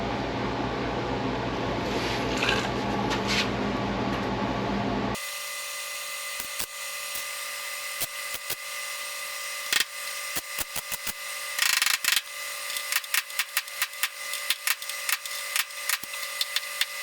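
Tack welding on a car's outer body repair panel: after a few seconds of broad noise, sharp crackling bursts of welding arc sound come in short irregular zaps, close and fairly loud, with no talk.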